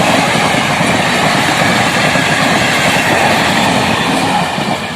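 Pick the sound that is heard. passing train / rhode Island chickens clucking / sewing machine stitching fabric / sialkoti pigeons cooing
passing train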